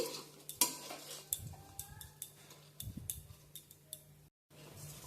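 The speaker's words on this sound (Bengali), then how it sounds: "ক্রমাগত নেড়ে আমি লো ফ্লেমে ভালো করে ভেজে নিচ্ছি" Rice being fried in a pan over a low flame is stirred constantly, giving scattered scrapes and light metallic clinks of the spoon at an uneven rhythm over a faint sizzle, quiet and close, with a brief silent gap near the end.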